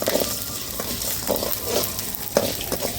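Chillies and garlic fry in a pan with a steady close sizzle, broken by a few light scraping stirs of a spoon, no talking.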